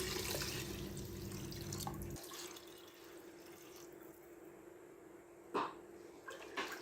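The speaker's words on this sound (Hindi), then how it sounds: "अब हम यहाँ पर पानी ऐड करेंगे और पानी हम लेंगे चावल के हिसाब से।" Water pours from a tap into a pot of rice for Memoni beef pulao, a steady splashing stream that cuts off after a couple of seconds, leaving quieter drips, faint clinks and room noise.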